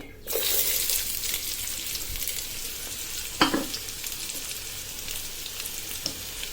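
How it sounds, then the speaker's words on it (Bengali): Onion, garlic, green chili and tomato drop into hot oil in a wok, setting off a sudden strong sizzle that continues steadily, broken by a sharp clunk of stirring partway through. "আমি কড়াইতে তেল দিয়ে দিছি, তেল গরম হয়ে আসছে। এবার কেটে রাখা পেঁয়াজ, রসুন, কাঁচামরিচ আর টমেটো দিয়ে দিচ্ছি"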